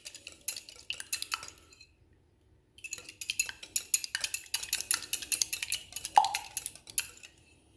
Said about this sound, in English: We're just going to whisk this up and make a bit of an egg wash to glaze over the top of the pie.